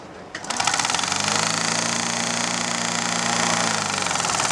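A homemade car's engine runs at a steady, even idle with a buzzing, rattling drone, close and continuous after a brief start, with no talk.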